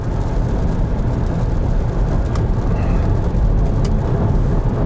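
A steady, loud road roar with a low rumble fills the cabin of a BMW iX1 xDrive30 electric car driving at speed in sport mode, constant throughout.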